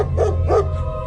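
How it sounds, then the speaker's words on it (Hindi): A dog outside a house barks in two short, close bursts, the second slightly longer, over a steady low hum, with no talking. "अरे ये क्यों भौंक रहा है?"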